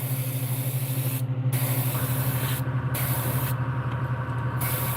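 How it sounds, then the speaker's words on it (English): An airbrush sprays a silver base coat onto a fishing lure in steady hissing bursts, cutting off briefly a few times, over a loud continuous compressor hum. "If you spray too much silver on as your base coat, the rest of the colors aren't going to stick correctly"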